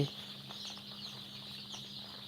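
Chickens cluck steadily at a poultry farm selling chicks of Sonali, Tiger, layer, broiler and deshi breeds, soft continuous calls over a constant low hum and a faint background of other birds, with no talking.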